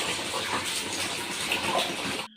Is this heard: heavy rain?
yes